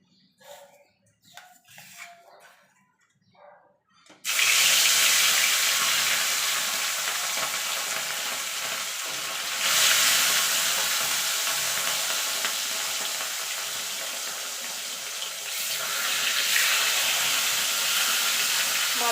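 Pieces of rohu fish slid one by one into hot oil for fish kalia, bursting into a loud, steady sizzle after a few quiet clinks, with swelling surges of frying hiss that continue throughout.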